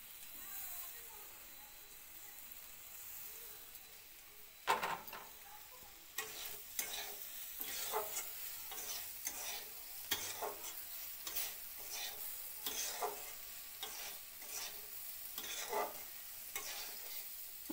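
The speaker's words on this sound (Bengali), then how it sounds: "মশলা বেগুনে একসঙ্গে ভালো করে কষিয়ে নেওয়া হয়েছে।" Spices and eggplant sautéed together in a pan for a fish paturi dish: a continuous sizzle broken by repeated scraping strokes of a spatula, starting with a sharp knock and then stirring in an uneven rhythm.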